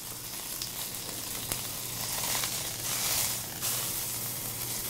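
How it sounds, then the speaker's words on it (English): A piece of meat sears on all sides in a hot pan, making a continuous soft, hissing sizzle with faint crackles throughout. "you sear the whole thing, not just the top and the bottom like most people will do"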